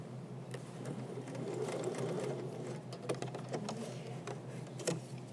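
A sewing machine topstitches binding down along the edge of denim jeans being lengthened, running in a steady close whir with short bursts and pauses as the fabric is guided, no talking.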